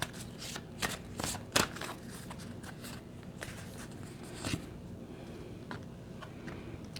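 Tarot shadow cards shuffled by hand, a run of quick papery riffles and soft slaps, close and fairly quiet, with uneven bursts and short pauses and no voice.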